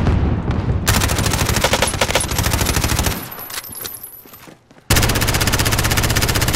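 Rapid automatic SMG fire in Modern Warfare Warzone rattles in long, loud, dense bursts, briefly fading into a quieter gap before another burst erupts right up close.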